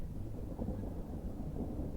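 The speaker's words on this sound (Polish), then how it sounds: "Burza jest, sami deszcz" Thunder rolling during a May storm with rain over a garden building site, a low continuous rumble that swells and ebbs, fairly faint and distant, with no voices.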